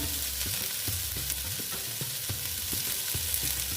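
Chopped ginger fries in hot oil for an Afghani egg curry, a constant bright sizzle with a spatula scraping and stirring the pan in a steady rhythm, close and loud, with no talking.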